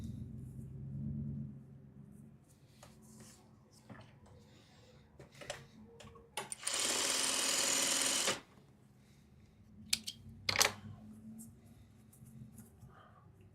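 A sewing machine joins small fabric scraps in a short, loud, continuous burst partway through, with quieter handling clicks around it and some talking near the start.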